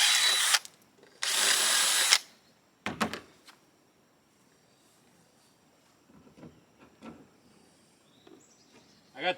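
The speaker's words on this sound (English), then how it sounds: "So each one of these, I'm going to drill the hole out." A power drill bores holes into plastic rain-barrel bung caps in a barn, two loud bursts of whirring followed by scattered clicks and handling noises, with quieter knocks toward the end.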